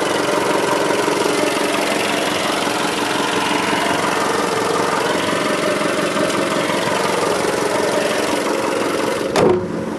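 A 2015 Jeep Renegade Trailhawk's 2.4-liter MultiAir engine idles steadily and loudly up close, an even drone throughout, with a brief click near the end.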